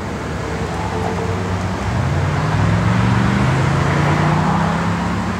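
A 1967 Chevrolet Nova engine with Flowmaster dual exhaust gives a steady, low rumble that rises slightly partway through as the revs climb, close and continuous with no talking.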